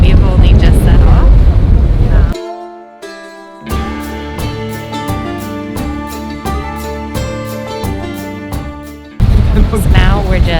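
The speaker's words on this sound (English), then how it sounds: "Now it's really windy." Strong wind buffets the microphone aboard a whale-watching boat off Iceland, loud and roaring at the start and end, with tonal music taking over in the middle.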